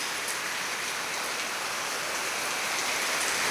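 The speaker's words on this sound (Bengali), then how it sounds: "প্রচুর ভারী বর্ষণ সৃষ্টি হয়েছে, বৃষ্টি।" Heavy torrential rain pours down in a steady, dense hiss close by, with water running nearby and no voices over it.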